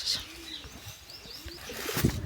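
White pigeons coo softly close by in a quiet setting, with a few low, rolling calls and faint chirps spread over a couple of seconds and no one talking.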